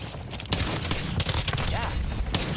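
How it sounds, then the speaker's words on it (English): Shotgun blasts fire in the online shooter Warzone DMZ, Season 4, during a PvP fight. Several sharp shots land at irregular intervals over a steady bed of game noise, and players talk over them. "The guy with a shotgun that's like destroying me"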